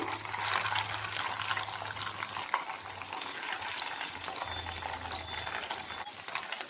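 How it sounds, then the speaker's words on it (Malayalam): Rava mini vada deep frying in hot oil, a steady dense sizzle and crackle throughout, close and fairly loud, with no voices. "ഇതുപോലെ ഇട്ട് ഫ്രൈ ചെയ്തെടുക്കുക കേട്ടോ"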